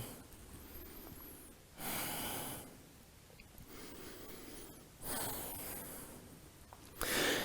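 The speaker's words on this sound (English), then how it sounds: "And just breathe." Slow, audible breaths during a vinyasa yoga practice on all fours: two long, loud inhale-exhale swells separated by quieter stretches, with another breath starting at the end.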